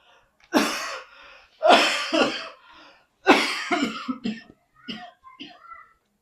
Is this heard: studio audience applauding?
no